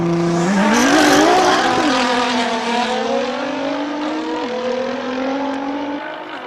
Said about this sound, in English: That Nissan GTR sounds amazing.